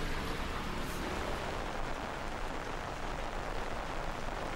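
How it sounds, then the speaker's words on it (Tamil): Heavy rain falls in a steady, dense hiss across the whole clip, loud and continuous with no pauses. It is a three-day downpour in Tamil Nadu. "இந்த நிலையில் 3 நாட்களாக தொடர்ந்து கனமழை பெய்து வருவதால்"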